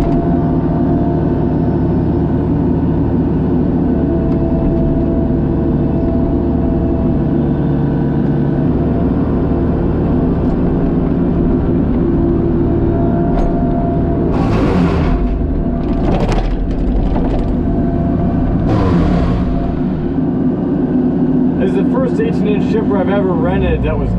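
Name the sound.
gas-powered wood chipper running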